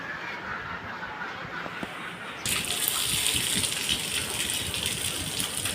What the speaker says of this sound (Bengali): তো দেখতে পাচ্ছেন পানি চলে আসতেছে।